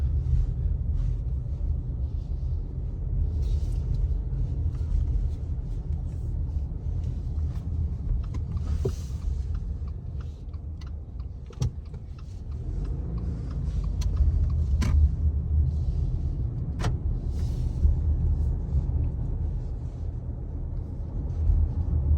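Cabin of a 2021 Subaru Crosstrek Outdoor with the 2.5L engine pulling out of a parking lot: a steady low rumble of engine and road noise, with small clicks and rattles and a few brief bumps, no speech.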